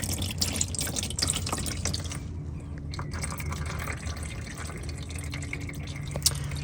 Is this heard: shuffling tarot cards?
no